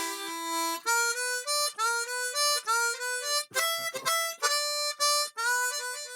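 Chromatic harmonica in C plays a two-bar slow blues phrase in E, a steady run of separate breathy reed notes with a few quick articulated flutters, close and unaccompanied.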